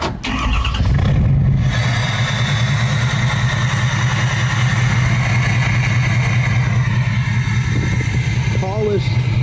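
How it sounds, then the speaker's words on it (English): A diesel engine fitted with a polished exhaust tip holds a steady, loud, close idle with a deep rumbling drone, with a brief louder burst near the start. "The polished diesel exhaust tip has proven that changing the exhaust tip really makes a difference."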